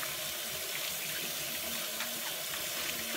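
Hot water runs steadily from a kitchen tap over an apple being washed, a continuous broadband splashing rush with no talk.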